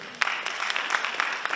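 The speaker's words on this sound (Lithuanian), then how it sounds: "Jūsų plojimai salėje." Steady applause fills a hall during a men's open bodybuilding contest, a dense wash of clapping with a few sharper bursts over about a second and a half, no voices.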